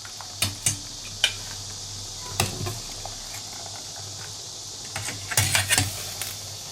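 Cooked instant fire noodles scooped out of a pot in a home kitchen: a handful of sharp metallic clinks and taps of a utensil against the pot, spaced irregularly, with a quiet hum between them and no talking.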